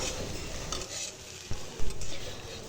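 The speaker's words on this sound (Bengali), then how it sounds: "আমি ভালো মতো উল্টে পাল্টে ভেজে নিচ্ছি" Loitta dried fish fries in mustard oil with garlic, sizzling steadily while a utensil stirs and scrapes the pan in a few close, sharp knocks.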